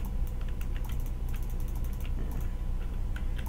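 Quick bursts of small, dry clicks from a computer mouse while playing Minecraft, tapping irregularly near the microphone over a low steady hum.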